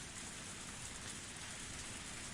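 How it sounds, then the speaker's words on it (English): Steady pouring rain in a Higurashi visual novel, a dense continuous hiss with no breaks, fairly quiet and heard alone. "Only the sound of the pouring rain filled up the silence."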